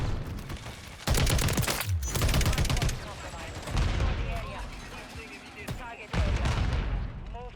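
Call of Duty MW3 gunfire: loud bursts of automatic rifle fire in several rapid volleys separated by short gaps, with a player talking over parts of the action.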